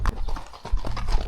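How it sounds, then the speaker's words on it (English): Horses walk at a steady pace in rural Kyrgyzstan near a village, their hooves clip-clopping in a close, irregular rhythm, with no voices. "here are the horses"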